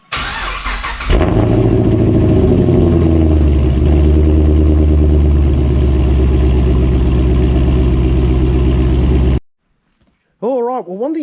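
A Commodore V8 on a dyno makes a loud, sustained wide-open revving run that builds and holds for several seconds, then cuts off abruptly. A voice briefly speaks after the engine stops.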